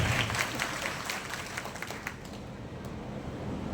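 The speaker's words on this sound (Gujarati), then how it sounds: "ધીરુરામ બાપુને જોરદાર તાળીઓના ગડગડાટથી આપણે વધાવીએ." A crowd applauds steadily at a distance, a dense patter of many hands that holds at a moderate level throughout.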